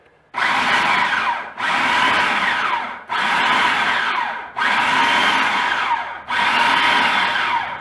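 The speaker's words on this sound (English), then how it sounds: "now that you have all the ingredients into the food processor, we're going to pulse it until it turns into a doughy mixture" A food processor pulses gluten-free meatball ingredients into a doughy mixture, whirring loudly in five even bursts of about a second and a half each, separated by short pauses.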